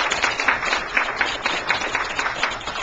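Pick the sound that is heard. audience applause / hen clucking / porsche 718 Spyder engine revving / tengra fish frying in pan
audience applause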